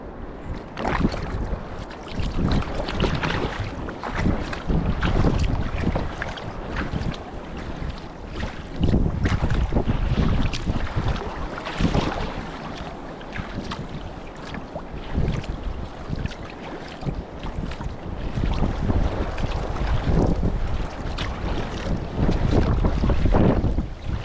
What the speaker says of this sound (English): I can feel that wind pushing me.